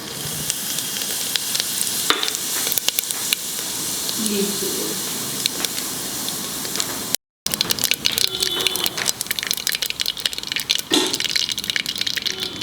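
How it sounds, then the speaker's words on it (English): Mustard and cumin seeds crackle and spurt in hot oil in a pan, a steady sizzle with scattered pops running throughout, briefly cut out by a short gap near the middle. "you put in mustard seeds. Okay? Let it spurt."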